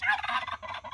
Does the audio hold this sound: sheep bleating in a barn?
no